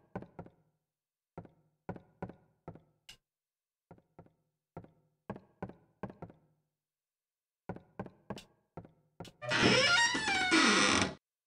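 A series of sharp knocks and taps in irregular clusters with short pauses, ending in a loud, grinding, rattling creak that lasts about two seconds: a door sound in the video game Silent Hill.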